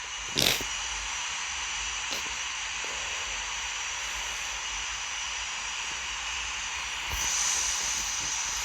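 Airliner jet engines at full takeoff thrust in the RFS flight simulator make a steady, airy roar and hiss that holds evenly throughout, with a couple of brief louder bursts near the start and end.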